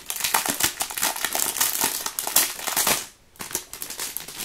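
Continuous crinkling and rustling of paper wrapping being pulled off a paper pad, close and fairly loud, with a brief pause near the end before more crackling.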